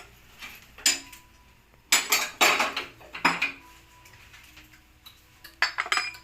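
Metal parts of a gas stove burner handled and pulled apart, giving sharp clanks and clinks in several bursts with quieter rattling between, close by with no voices.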